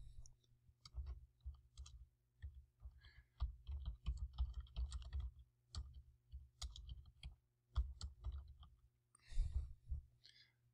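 Steady keyboard typing in quick bursts of clicks with short pauses, close and fairly quiet, no voices.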